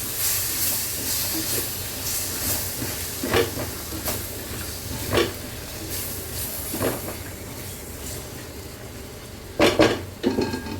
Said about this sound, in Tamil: இப்போ இதையும் சேர்த்துடலாம். சேர்த்துட்டு நல்லா கிளறி விடுங்க.